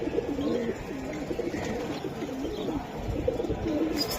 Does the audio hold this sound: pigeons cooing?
yes